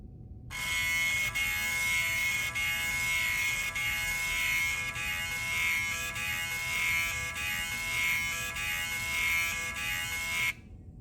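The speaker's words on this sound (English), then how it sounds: "I can specify the RPM I want the motor to spin at, as well as the duration in seconds." Small electric motor spinning at 50 RPM for about ten seconds, a steady close buzzing whine that starts abruptly and cuts off cleanly, with nothing else heard.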